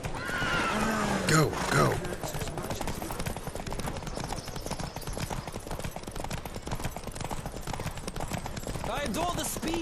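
Horses whinny loudly near the start amid the quick drumming of galloping hooves in a horse race in The Witcher 3: Wild Hunt, with a short shout, and more neighing toward the end.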